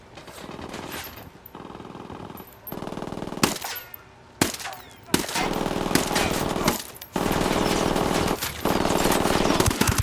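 Automatic gunfire erupts during an ambush in the Ghost Recon Wildlands video game: loud machine-gun bursts and rapid shots come in long sustained volleys broken by brief pauses, with a few sharp single cracks.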